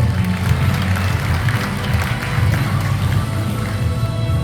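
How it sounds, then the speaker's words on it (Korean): A hall full of guests claps steadily at a book launch ceremony in a city arts center auditorium, a dense, even applause that holds at the same level without breaks for several seconds. "경의 박수 부탁드립니다"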